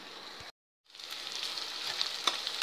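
Okra (vendakkai) cooks in a pan with a soft, steady sizzle that cuts out for a moment and then returns, building slightly, with faint crackles on top, fairly quiet and close.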